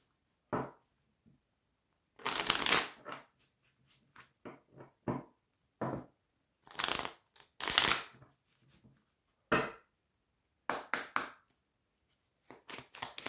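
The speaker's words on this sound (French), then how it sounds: "je vais prendre quelques cartes avec le petit oracle des âmes amoureuses" Oracle cards from a small deck are shuffled close by in several separate bursts of papery riffling and slapping, with short silent pauses between them and no talking.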